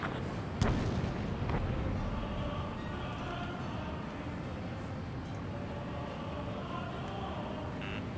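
Missile launch and rumbling engine noise in an aerial combat video game, a sharp blast near the start followed by a sustained loud roar of jet and weapon sound.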